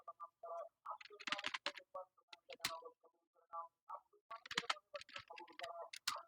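Someone types 'Facebook cover' into a search box on a computer keyboard, producing a quick, close run of light key clicks in uneven bursts, with short pauses between words and no talking.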